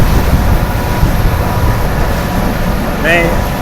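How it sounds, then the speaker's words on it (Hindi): Shah Latif Express train running at good speed after leaving a station, heard from the coach right behind the locomotive as a steady, loud rumbling roar with a brief squeal near the end. "स्टेशन से निकलने के बाद अच्छी स्पीड में रवाना हुई है"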